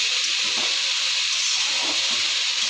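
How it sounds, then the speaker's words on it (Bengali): Capsicum, carrot and onion fry in a pan with a steady, close sizzling hiss that runs unbroken throughout, with no voices. "ক্যাপসিকাম গাজর পেঁয়াজ দিয়ে ভেজে নিচ্ছি"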